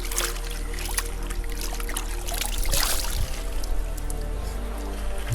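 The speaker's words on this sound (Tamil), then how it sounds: "இதான் அந்த ஊற்று தண்ணி, செம்மையாக இருக்கும் தண்ணி" Clear spring water trickles and splashes from a mountain stream, a continuous close burble with a brief louder gush midway and no talking.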